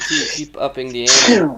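A single sharp sneeze bursts out amid a man's casual speech, close and loud, with talking just before and after it.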